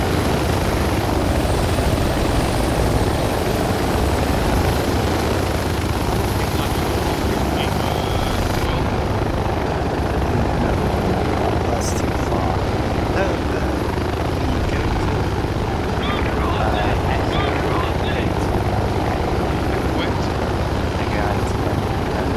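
A military transport helicopter in the Project Reality war game roars continuously from inside the cabin, a dense steady rotor and engine wash with no breaks, loud and close throughout.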